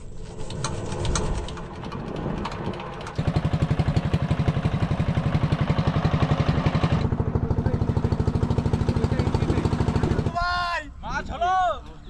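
A fishing boat engine in the Sundarbans coughs into life and settles into a loud, fast, even chugging that runs for several seconds, with people talking over it before and after.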